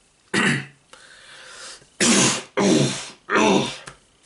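Three loud, harsh throat clearings close to the mic, each about half a second long, with a short pause between the first two and a quick pair near the end.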